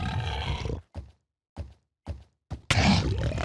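An angry Minecraft hoglin: rough, growling snort and grunts, with several short thumping bursts separated by silence, then a loud harsh roar at the end.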